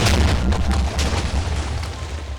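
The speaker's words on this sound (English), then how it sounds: "TNT cannon" Deep booming TNT cannon explosions in a video game rumble one after another in quick succession, loud and dense, with no voices.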